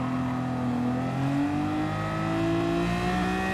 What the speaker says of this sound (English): At least we get to hear the 12-cylinder noises driving this thing.